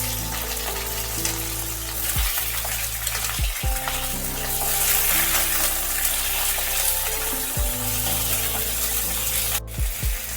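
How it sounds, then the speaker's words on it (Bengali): Pointed gourd (potol) pieces frying in hot oil, giving a steady loud sizzle and crackle throughout, with a few clattering knocks of a utensil against the pan. "তেলটা গরম হয়ে গেছে, আমি পটলগুলো এর মধ্যে দিয়ে দেব।"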